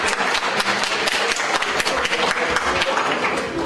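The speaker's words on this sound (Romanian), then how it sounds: "Dacă nu, atunci îi dăm aplauze." An audience at a Science Slam event in Moldova applauds, a dense, steady wash of many hands clapping at once that fills the whole stretch at a lively level.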